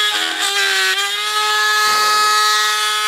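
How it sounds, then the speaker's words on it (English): A Dremel rotary tool drills out vent holes in a resin part with a close, high-pitched steady whine that dips briefly in pitch under load midway through, then keeps running. "I like using a clockwise motion to clean out the Dremel"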